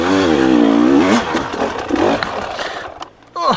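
A dirt bike engine revs on a narrow singletrack trail, loud and close, with a rising and falling whine that cuts out abruptly near the end.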